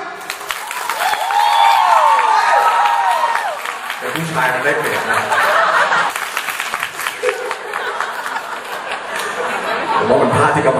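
Crowd at a mall event clapping hard in a clapping contest for a cash prize, mixed with chatter, laughter and someone talking over the noise.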